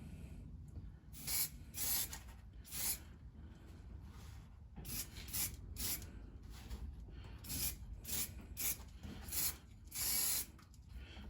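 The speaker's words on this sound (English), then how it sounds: "Just going to spray the back here with some weld through zinc primer." Short bursts of weld-through zinc primer sprayed from an aerosol onto the back of sheet metal, hissing on and off in repeated blasts close by, with quiet gaps between each spray.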